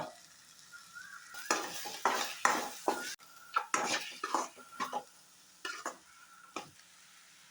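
Three beaten eggs with salt fry and are stirred in a pan, with a steady sizzle under repeated spatula scrapes and clatters that come in clustered bursts, close-up and with no voices.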